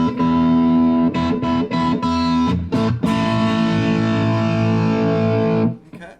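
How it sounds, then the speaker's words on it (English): A distorted electric guitar through a Roland Cube 40GX on its Marshall amp model, with a few choppy muted stabs followed by a loud, sustained ringing chord that cuts off abruptly. "I'm going to go to a Marshall. I'm going to get a good distortion sound here."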